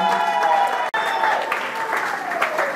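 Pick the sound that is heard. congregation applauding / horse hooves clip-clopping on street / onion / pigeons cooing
congregation applauding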